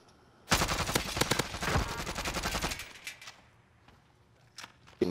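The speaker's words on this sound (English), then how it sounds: "They're shooting at me in the middle of you." Rapid automatic gunfire in Call of Duty Warzone, an XM4 rifle among the weapons, rattling loud and close in a long sustained burst, then trailing into sparse distant shots and echoes, with no talk over it.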